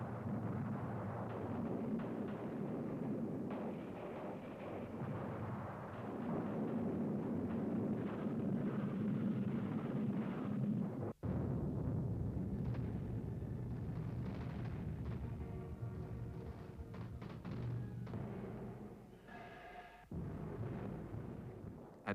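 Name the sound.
artillery barrage of guns and mortars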